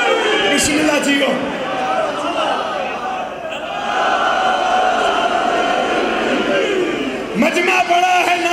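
A large crowd at a religious poetry gathering in Sarpak, Chakwal roars and chants slogans together, a loud sustained mass of voices that swells, dips briefly and surges again near the end.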